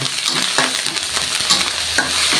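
Red curry paste stir-fries with torn kaffir lime leaves in a pan, a loud close sizzle broken by scraping strokes of a utensil against the metal at an uneven rhythm.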